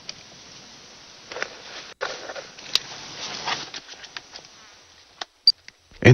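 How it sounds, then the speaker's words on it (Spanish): Tiny fruit flies buzzing close by, soft thin whirring that swells and fades in uneven bursts, with a few sharp clicks near the end and no voices. "Diminutas moscas de fruta, una delicia culinaria para las hormigas"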